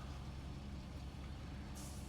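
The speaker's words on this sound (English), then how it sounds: "Okay, need to move my truck." An air brake on a truck in the video game SnowRunner releases a steady, close hiss of air that holds throughout, with a sharper high hiss coming in near the end.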